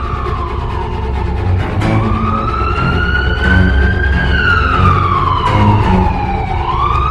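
A police siren wails up and down in long sweeps over rumbling traffic noise, loud and fairly near.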